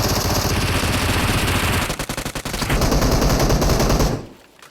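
Sustained automatic gunfire from the BGMI mobile battle royale game rattles loudly in rapid bursts, breaking into distinct individual shots partway through before the fire resumes and then cuts off abruptly near the end.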